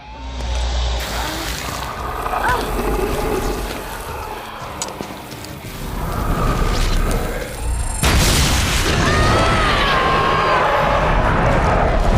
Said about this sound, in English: After we wear her down again, we hit her with explosive gel once again